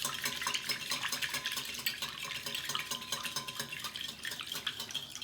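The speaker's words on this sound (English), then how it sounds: "I'm going to push down the egg yolk and just give us a whisk and just pour in this butter" A whisk scrapes and stirs egg yolk in a bowl while melted butter pours in for cornbread batter, giving a steady, busy clatter of metal on bowl close up, with no talking.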